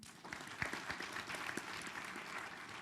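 Steady, dense audience applause fills an auditorium at a Kenyan leadership forum on voters and elections, sustained and fairly even from start to finish with no talking over it.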